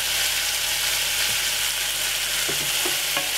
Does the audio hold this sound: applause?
no